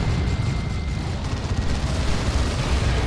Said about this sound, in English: Assault Cannon Barrage